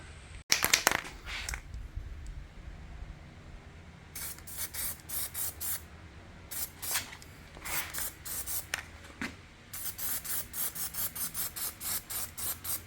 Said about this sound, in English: Now this is just a bit of zinc spray, a bit of weld through.